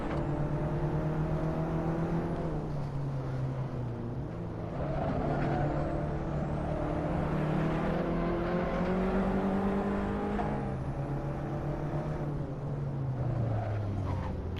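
Race car engines in Assetto Corsa drone steadily, the pitch climbing and dropping with shifts as cars push through turns and jostle for position, a continuous loud whine with no talking.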